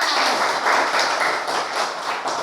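A class of students applauds together in a room, steady dense clapping filling the space throughout, loud and close with no voices over it.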